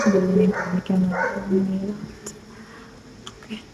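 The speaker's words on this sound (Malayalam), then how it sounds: "ബാക്ക്ഗ്രൗണ്ട് നോയ്സ് പട്ടി ഇറങ്ങി വരച്ചുകൊണ്ടിരിക്കുകയാണ്" A dog barks a few times at a distance under a steady spoken voice, the barks short and muffled in the background.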